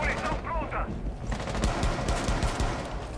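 Dense, rapid bursts of gunfire in Rainbow Six Siege on the Yacht map, loud and continuous, with a voice briefly audible underneath.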